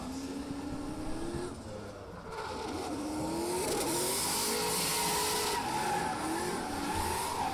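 A drift car runs a competition qualifying pass at Oman International Drift Round 3, its engine droning at high revs with rising and falling pitch and tires squealing in a long skid, loud and close throughout.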